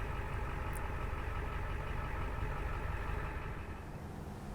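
IDI 7.3 diesel engine of a Class B desert camper van idling after warming up, a steady low clattering rumble with a fast knocking pulse, close and continuous throughout.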